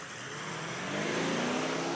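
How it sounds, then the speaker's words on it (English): A Toyota Land Cruiser 76 Series with a V8 engine accelerates hard in a 0 to 100 launch, its low engine drone building steadily in pitch and loudness with no talking. "let's test the 0 to 100 of this monstrous V8"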